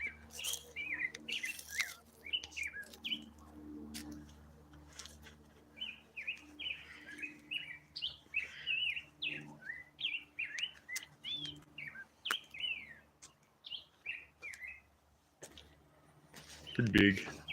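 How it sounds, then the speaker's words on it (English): Repeated bright bird chirps and short tweets ring out across the clip in woods with large junipers, over a low outdoor rumble, with a few louder calls standing out near the end. "I don't know if you can hear that bird."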